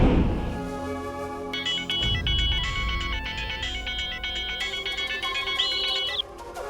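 A phone ringtone plays a repeating electronic melody, loud and close, after a brief rumbling sound at the start.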